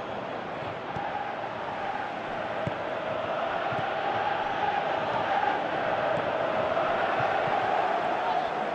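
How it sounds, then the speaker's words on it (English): Stadium crowd noise from the football video game PES 2018, a steady loud roar of a large crowd with rising murmurs and occasional swells, continuous throughout with no clear talk over it. "you can feel and hear how the crowd are reacting to all of this"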